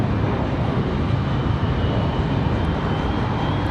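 A Frontier airliner holds at the end of the runway at Raleigh-Durham International Airport before takeoff, its engines giving a steady broadband roar that stays constant throughout, loud and unbroken, with no voices.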